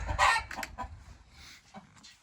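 Turkeys on a small farm give a few close gobbling, clucking calls in short bursts, fairly loud at first and then quieter, with no talking.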